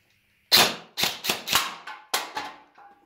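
An M401 gel blaster fitted with a WARFET MOSFET fires six sharp semi-auto shots, each a crisp snapping crack with a short decay, spaced roughly a third of a second apart, close and loud against near silence.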